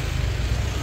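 Road traffic with trucks passing in Pattaya, a dense, steady low rumble of engines close by, with no clear gaps or talking.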